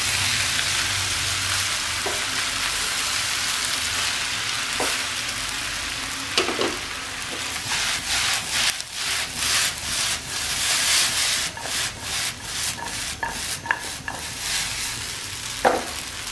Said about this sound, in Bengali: হালকা হাতে সবজির সঙ্গে নুডলসটাকে মিশিয়ে দিতে হবে।